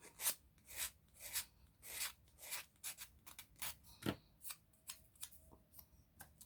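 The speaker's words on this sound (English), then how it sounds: "So I can sand this down, round it out a little bit." Hand sanding of a small Dollar Tree candle holder piece with a gator sanding tool, heard as quick, close, repeated raspy scrapes in an uneven rhythm with brief pauses, no talking.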